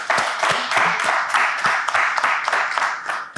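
An audience applauds during a French-language talk show segment, a steady wash of clapping with sharper individual claps standing out, fairly close and continuous for a few seconds.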